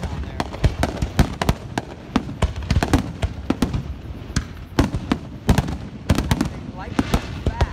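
Strobe rocket fireworks going off outdoors, a fast string of sharp crackling bursts and pops close by, with voices talking in the background.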